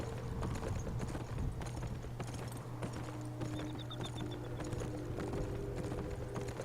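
Horse hooves clip-clopping in the video game Beyond: Two Souls, a steady close rhythmic trot that runs throughout over a low constant rumble.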